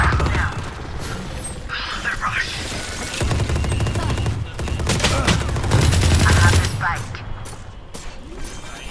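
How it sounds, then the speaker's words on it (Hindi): Bursts of rapid gunfire and clattering shots from the video game Valorant crackle in irregular volleys, layered with mechanical clicks and game sound effects. "आदिर किस पे गोली चला रहे हो?"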